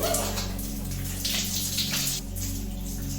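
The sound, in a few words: rain shower head running water in bathroom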